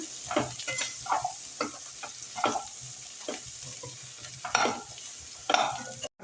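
A spoon stirs coriander powder into a sizzling vegetable biryani masala in a pan, with a series of close scraping strokes over a soft frying hiss and no talking.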